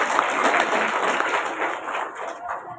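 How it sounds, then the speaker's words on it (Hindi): A crowd at a Janamat Party political rally claps loudly for leaders, workers and the public, a dense continuous burst of many hands that thins slightly toward the end. "उनके लिए आप एक बात जोर से ताली बजाइए"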